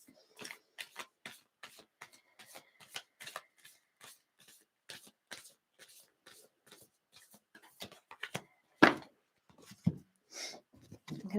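Tarot cards being shuffled during a reading: a rapid run of crisp, papery flicks and taps, fairly quiet and close, with a brief vocal exclamation and louder handling near the end.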